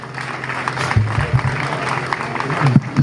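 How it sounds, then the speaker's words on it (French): A church congregation claps in a continuous wash of applause, loud and close, with a few voices mixed in underneath. "applaudis quand même pour lui dire merci"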